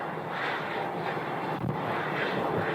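A Delta Airbus A321 lands at Phoenix Sky Harbor with a continuous, loud broadband jet roar that holds steady throughout, slightly buffeted by wind.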